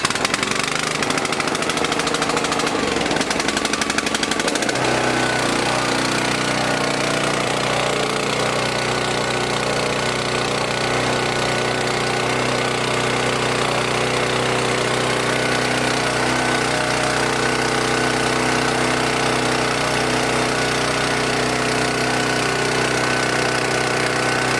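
Small gasoline engine idling steadily after a dose of Sta-Bil 360 fuel additive, a brief rough patch at the start settling into an even, continuous running drone close by with no talk.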